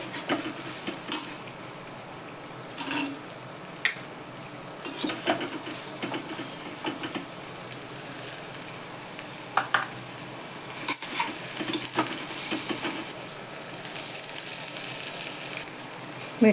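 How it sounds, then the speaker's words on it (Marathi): Potatoes sautéed in a pan in a home kitchen, soft sizzling under intermittent scraping and clinking stirs of a utensil against the pan, fairly quiet throughout. "बटाटे चांगले परतून घ्यायचे."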